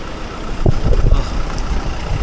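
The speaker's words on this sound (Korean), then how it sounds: "드디어 버스 왔습니다." Low rumbling engine of a large bus close by, with a few thumps and mechanical knocks as it pulls in and idles.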